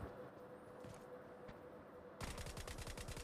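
Gunfire in a multiplayer gun game match starts after a softer stretch of game noise and becomes a loud, rapid automatic burst of evenly spaced shots.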